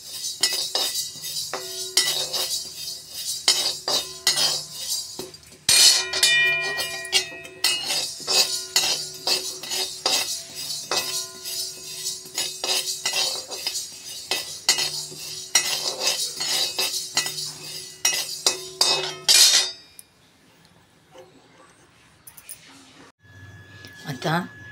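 Moong dal dry-roasting in a pan, stirred with a metal spatula: rapid, repeated clinks and scrapes with a voice talking at times, then the stirring stops and it falls quiet near the end.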